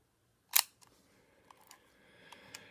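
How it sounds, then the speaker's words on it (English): A Leica IIIf rangefinder camera shutter fires at a slow speed around 1/50 second, giving one crisp close mechanical snap followed by faint clicks and whirring of the mechanism in a quiet room. "You can kind of hear it's taking a little longer to complete the shutter mechanism."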